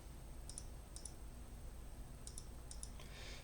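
Calculator keys pressed in a few quick pairs of light clicks spaced across the moment, close and faint over a steady low hum.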